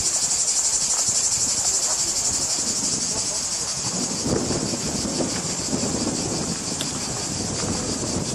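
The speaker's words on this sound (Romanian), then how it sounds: "Zgomotul e produs de niște insecte numite cicade." Cicadas in Greece keep up a loud, continuous high shrill buzz at a tourist site, with a faint rumble and crowd murmur beneath it.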